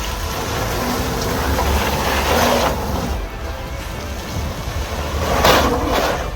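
A stock Subaru Forester's engine drones steadily and swells twice as it revs, trying for wheel speed on a steep, wet off-road track, with a rough, continuous rumble and no talking.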